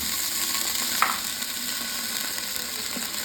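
Cut potatoes fry in a pan for vegetable pulao, giving a steady close sizzle with one brief clack of a utensil near the start, without talk.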